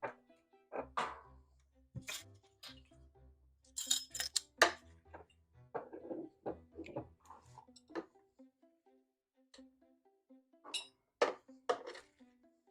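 Glass canning jars clink and clatter at close range while they are filled with corn succotash in a home kitchen, giving light, irregular taps and knocks with a few duller thumps, fairly quiet overall.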